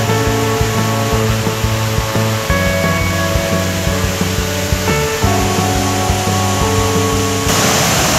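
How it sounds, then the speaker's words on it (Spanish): Waterfalls at the basalt prisms of Huasca de Ocampo pour in a steady, loud broadband roar that never lets up, with faint sustained tones running underneath and no voices. "ahí podemos ver las dos caídas de agua que están aquí al principio, con la tercera que está allá"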